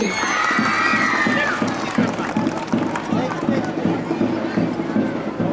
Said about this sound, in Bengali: আশরাফুলের জন্য অনেক জোরে হাততালি।